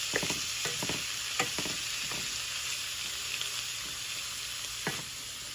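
Cooked ham reheats in a pan for ham and noodles, a constant sizzling hiss with a cluster of stirring clicks early on and another near the end.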